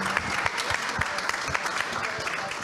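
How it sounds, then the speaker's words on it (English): An audience claps steadily, a dense patter of many hands at moderate volume, continuing throughout without letting up. "if everyone could join me in a round of applause"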